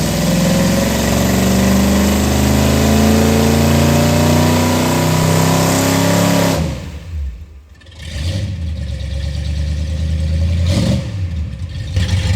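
An EFI engine revs hard on a dyno, a loud sustained roar climbing in pitch that cuts off abruptly, then drops to a lower idle with a few brief blips.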